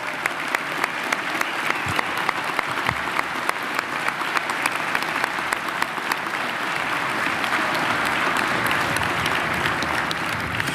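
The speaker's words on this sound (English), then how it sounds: "How about another round of applause for all of our medal and award recipients for this year?" Large audience at an NYPD medal and award ceremony applauding recipients, a steady, dense round of clapping lasting throughout with a faint murmur of the crowd.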